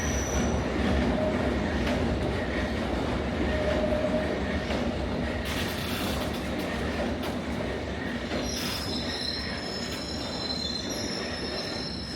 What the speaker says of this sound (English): What train is this arriving on the other side?